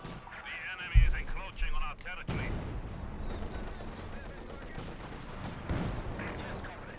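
Battle sounds from the strategy game Company of Heroes 2: a loud gunshot burst and scattered rifle and artillery fire rumble through the mix under continuous commentary.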